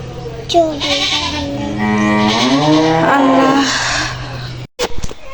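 A cow moos nearby on a farm: one long, loud, drawn-out lowing call that rises and falls, ending in a brief pause and some shuffling.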